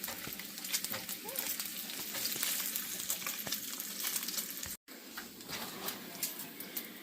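Bacon strips fry in a pan with a continuous crackling sizzle and scattered sharp pops, fairly quiet and steady, briefly cutting out for a moment partway through.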